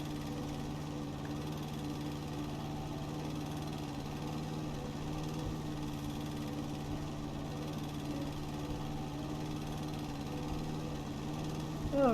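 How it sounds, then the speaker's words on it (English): A lawn mower in the House Flipper Garden DLC video game hums continuously at a steady pitch, an even, buzzing engine drone that runs throughout. "The mowing takes a little bit of time when you first get in."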